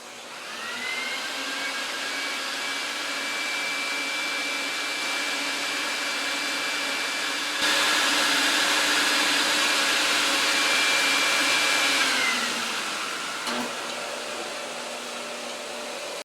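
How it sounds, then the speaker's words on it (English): Cleaning vacuum extracting urine from an Oriental rug, a loud steady whine that starts up, runs evenly, rises in intensity midway, then winds down with a brief knock near the end. "Listen how the vacuum extract all the urine from the Oriental rug."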